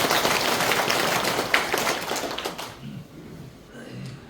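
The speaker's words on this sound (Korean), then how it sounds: "동의하시면 박수 한번 주십니다." A crowd claps at a council member's public report meeting held at a farmers' cooperative hall in Jeongseon, the applause loud and dense at first, then fading and dying out over the last couple of seconds.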